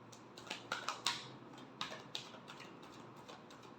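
Tarot cards being shuffled by hand, a short run of soft flicking riffles and taps heard close up for a few seconds, then settling to quiet room tone with no talking.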